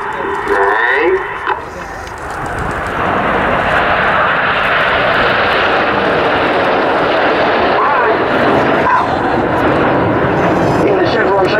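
Red Arrows display jets flying in Chevron formation at the Cosford airshow, a continuous loud engine roar filling the air while a commentator talks over it throughout.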